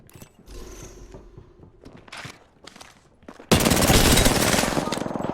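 Automatic weapon fire in the battle royale shooter Apex Legends: scattered shots and footsteps at first, then a loud, sustained, dense burst of rapid fire that dominates the second half.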